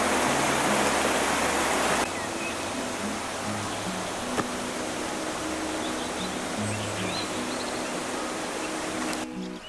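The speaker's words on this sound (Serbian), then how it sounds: "Pretpostavljam da je ovo Dojkinovska reka." Dojkinovska river rushing through Stara Planina, a steady broadband roar of flowing water, louder for the first two seconds and then continuing close and unbroken to the end, with no voices over it.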